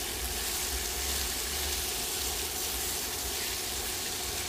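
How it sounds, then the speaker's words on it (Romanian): Dry rice grains fried in a pan with sauce over low heat give a steady, dense sizzling hiss that stays even and close throughout, with no talk. "Prăjim puțin și orezul."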